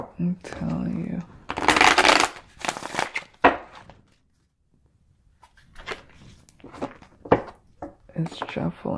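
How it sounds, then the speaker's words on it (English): An oracle card deck is shuffled in bursts of crisp riffling and flapping, with a quiet pause in the middle; someone talks between the shuffles. "Let's shuffle it. Let's see how it shuffles."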